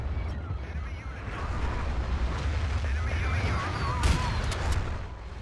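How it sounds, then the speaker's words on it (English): Artillery fire in a video game: a dense, steady low rumble with one sharper blast near the end, loud and close throughout. "Artillery on me!"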